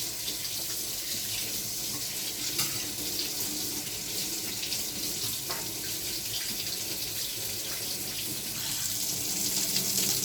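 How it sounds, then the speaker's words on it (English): A spoon is rinsed under a running kitchen tap while Maggi noodles are being made: a steady, close hiss of water splashing into the sink for about ten seconds, with no talking. "Just gonna wash my spoon that I'm gonna use."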